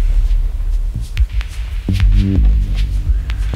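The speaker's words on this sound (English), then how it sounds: "the reverse reverb from the space here." A reverse reverb effect: a swelling, rising wash of reverberant sound that builds toward each note, with sustained tonal layers over a dense, hazy texture.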